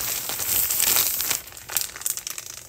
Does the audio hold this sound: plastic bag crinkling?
yes